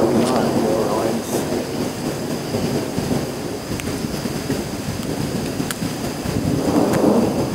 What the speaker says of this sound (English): we're standing in the rain in an electric storm